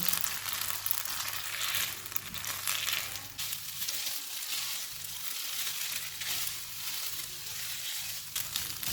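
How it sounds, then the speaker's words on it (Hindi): Spaghetti tossed with an egg mixture fries in a hot pan, a steady dense sizzle crackling evenly throughout, close and moderately loud with no voices. "अंडे वाला मिक्सचर डालेंगे। इसको 4 से 5 मिनट तक भूनेंगे।"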